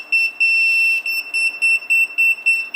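A Retekess T119 wireless restaurant pager beeps close by in a steady run of short, shrill electronic tones, one long sustained tone followed by evenly spaced repeated beeps.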